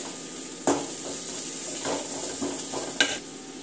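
Taro root (kesuvina gadde) fries in a pan with a steady close sizzle, broken by a few sharp scrapes of stirring at the start and near the end.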